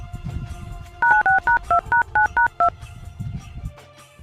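A run of about eight distinct touch-tone keypad beeps sounds as a number is dialed on a phone, with short even gaps between them. The beeps come between stretches of quiet background voices in a Gujarati film scene.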